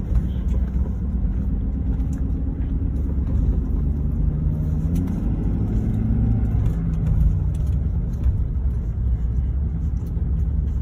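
A lifted 2018 Ford F-250 diesel truck engine running close by, a steady, heavy low rumble with slight swells in pitch, unbroken throughout.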